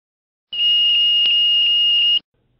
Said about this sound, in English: A single smoke detector is located in each lavatory.